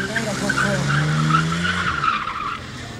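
American car doing a burnout at an American car festival in Komárom, rear tire on a full-size wheel squealing in a loud, sustained screech over engine roar, with a voice talking over it.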